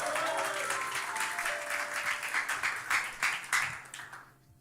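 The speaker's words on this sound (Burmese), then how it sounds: "တို့နာမလက်ခုပ်တီးပြီးချီးမွမ်းရအောင်" Worshippers at a Tuesday church service clap hands in praise, a dense, sustained applause of many hands with some louder individual claps standing out before it thins and fades at the end.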